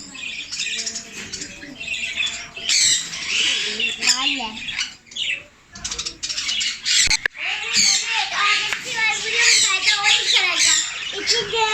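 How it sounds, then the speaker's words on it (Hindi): Ring-necked and orange parrots in an aviary screech in loud, harsh, overlapping squawks and chirps, close by and nearly continuous, with people talking among the birds. "ऑरेंज कलर का तोता है।"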